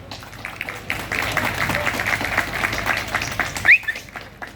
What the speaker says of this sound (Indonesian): Tepuk tangan, Dek.